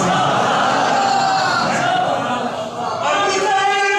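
A large crowd raises a loud, sustained religious chant of Nara-e-Haidri at a Jashan Mola Ali gathering, the massed voices continuous and near.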